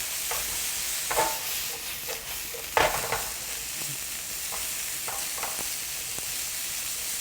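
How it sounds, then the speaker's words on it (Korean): Cucumber strips stir-fried over high heat for gyuasang, a Korean cucumber dumpling filling, give a soft, steady sizzle with scattered light taps of a utensil against the pan. "네, 새파랗게 맛있게 볶도록 하겠습니다."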